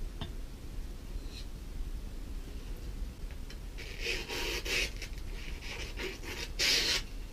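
The flat back of a Narex chisel is drawn across a sharpening stone in soft, close scraping strokes that grow louder toward the end, all over a low steady background hum.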